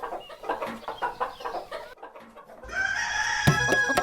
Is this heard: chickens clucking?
yes